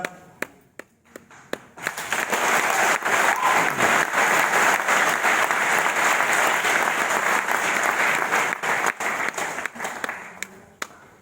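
Seminar audience in a hall breaking into loud, dense applause after a few scattered opening claps, sustained for several seconds before thinning into sparse claps at the end.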